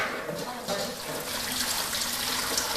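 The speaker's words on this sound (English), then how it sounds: "And so I'm putting this in the colander" Warm tap water used to soak rice noodles for pad thai pours out through a colander, a splashing, gushing drain that runs loud and continuous without talk.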